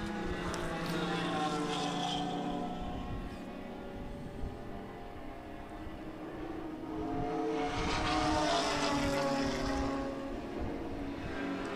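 Racing engine of the 717 Pontiac Grand Prix at the O'Reilly Auto Parts Grand Prix, a loud, steady droning roar that swells as the car passes close, with commentators' voices faintly beneath.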